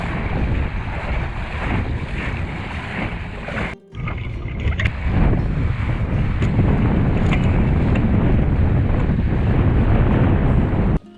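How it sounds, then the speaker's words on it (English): Gusty wind roars across the microphone aboard a small Sunfish sailboat, a loud, continuous rush with a brief drop near the start, water and waves washing underneath. "This wind is gusty, so this should be an interesting sail back."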